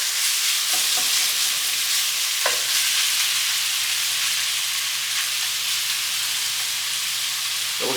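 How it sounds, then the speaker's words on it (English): Shrimp cooking in olive oil in a pan, a loud, steady hissing sizzle that runs unbroken, with a few soft scrapes of stirring early on and no talking. "So just got some olive oil in my pan right here, guys, cooking off these shrimp"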